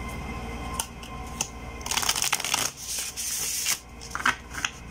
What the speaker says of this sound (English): Having a hard time shuffling the deck for some reason.